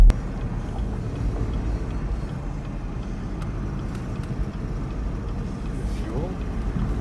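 A 2016 Chevrolet Camaro engine with a cracked valve spring runs steadily, a continuous low rumble with an uneven tick beneath it, fairly loud and steady throughout, with no talk.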